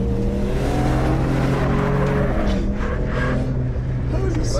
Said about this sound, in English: Now we're off-road, as you can see. A little bit of a hook left, right, whoa. Oh, can it drift, can it drift, can it drift? Oh yes it can